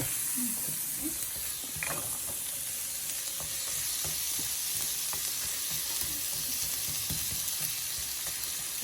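Marinara meat sauce simmers and sizzles steadily in a pan on a stovetop turned down to medium, a continuous close hiss with a few light utensil clicks and scrapes.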